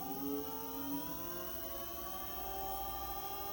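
An electric scooter, a Dualtron Ultra V2 in single-motor mode, pulls away on its rear hub motor with a steady rising whine and layered tonal hum that climbs in pitch over a few seconds, fairly close and with no talk.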